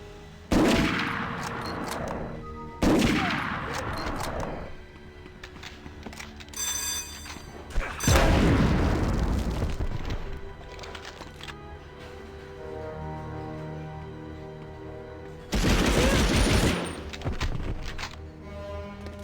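Gunfire and explosions in the 1999 PS1 game Medal of Honor come as four loud, separate bursts of crackling blasts, each lasting a second or two, with quieter game sounds and a soft music bed in between.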